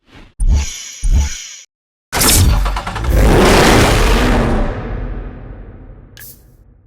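A Lamborghini Gallardo LP 564 engine in the Need for Speed Hot Pursuit video game gives two short blips, then a long loud rev that builds and slowly fades, with a brief burst at the end.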